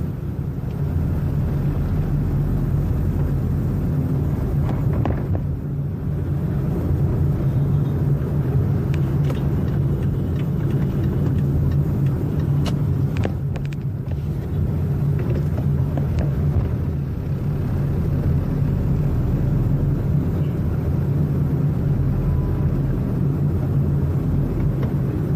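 Steady city street traffic rumbles around a moving vehicle in heavy congestion near Espana, at the Quezon City–Manila boundary, a continuous loud engine and road drone with no talk.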